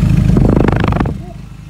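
A highly modified Suzuki Sierra petrol engine runs loud and close, with a throaty, pulsing rumble that eases off into a quieter idle partway through.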